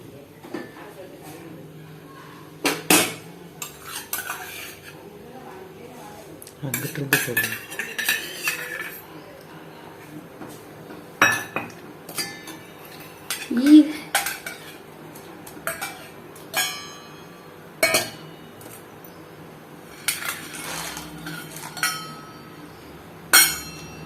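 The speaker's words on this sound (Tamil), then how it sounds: "இது எல்லாம் போட்டுட்டு நல்லா ஒரு கொதி வர்ற வரைக்கும் நல்லா கிண்டி விடுங்க" Oats porridge with dates and sliced banana being stirred in a cooking pot, a spoon scraping and clinking against the metal in repeated bursts, with a person talking throughout.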